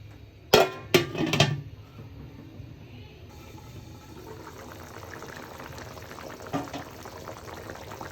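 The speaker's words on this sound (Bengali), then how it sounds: "ঝোলটা খুব ভালোভাবে ফুটে গেছে।" Fish curry broth boils in a covered pot, a low steady bubbling that follows a few sharp clanks of the lid at the start, with no talk.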